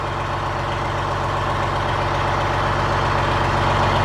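A Detroit Diesel two-stroke engine idles steadily in a White 4000 semi truck with a 15-speed transmission, a loud, even, low-pitched rumble with a fast regular pulse, close by and with no voices.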